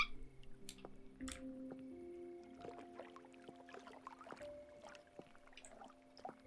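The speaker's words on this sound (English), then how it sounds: "I love listening to water." Water drips in the video game Cabernet, soft scattered drops landing at an irregular pace against a quiet, faint ambient background with low tonal hums.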